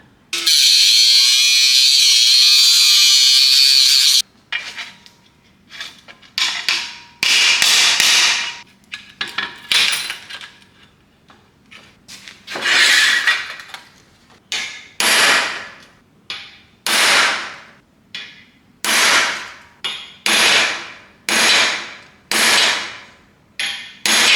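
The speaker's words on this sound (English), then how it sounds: "sort of starting the fold on the back side with that chisel" A hammer drives a chisel to fold the rusty sheet metal edge of a car body repair. A loud steady buzz opens, then comes a long run of sharp metallic strikes that grow more regular and rhythmic toward the end.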